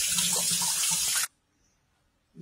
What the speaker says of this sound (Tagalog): Hugasan muna natin yung mangga natin.